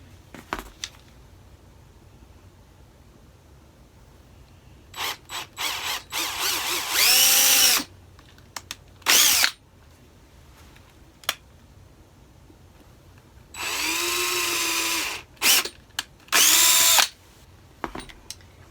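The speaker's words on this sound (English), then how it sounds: "So we're going to pre-drill our holes." A power drill pre-drills holes in wood for screw eyes, whirring in several short bursts, with two longer runs of high, whining spin, separated by quiet pauses and small clicks of handling.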